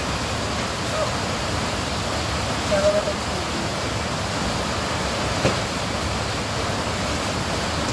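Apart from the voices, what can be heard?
heavy rain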